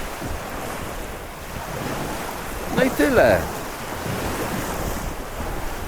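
Sea waves wash onto a beach under gusting wind buffeting the microphone, a steady roar with a brief swell in the middle where someone speaks a few words.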